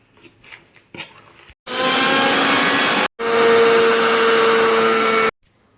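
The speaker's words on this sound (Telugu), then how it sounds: "ఎండుమిర్చి అనేది మిక్సీ పట్టుకున్నాను" A mixer grinder grinding dried red chillies runs in two loud, steady whirring bursts separated by a short pause, close by, with faint kitchen noise before and after.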